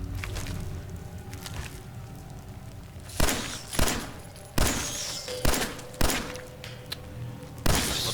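Gunfire in Fallout 4, a scattering of loud single shots spaced about a second apart after a quieter stretch of ambient game sound.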